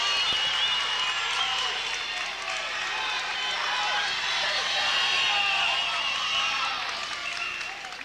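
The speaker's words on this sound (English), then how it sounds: "And you can hear the crowd getting into it." Crowd noise at a high school district wrestling finals, a continuous dense roar of cheering and shouting voices filling the gym, loud and sustained throughout with a slight swell in the middle.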